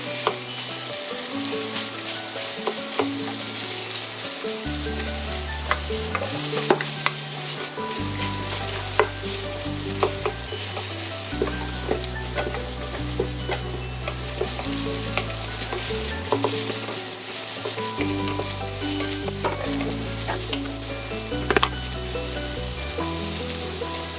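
Onion frying in a pan for salmon tomato cream pasta, a constant crackling sizzle with frequent scrapes and taps of stirring, heard alone over steady background music.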